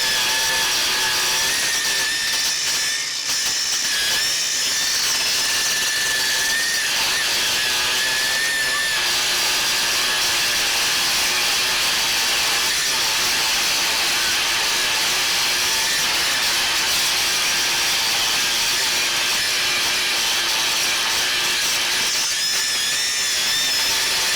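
A Milwaukee Quik-Lok edger attachment on a battery-powered tool cuts a lawn edge along a line with cracks, giving a steady, loud, continuous high-pitched whine and grinding scrape that holds without a break throughout.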